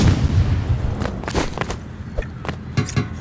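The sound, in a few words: rocket launcher or gunfire in the video game Roblox Rivals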